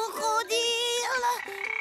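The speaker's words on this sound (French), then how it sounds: "c'est une grenouille" A frog croaks in a sequence of tonal, harmonic-rich calls close by, loud and clear in the Amazon setting, with no talking.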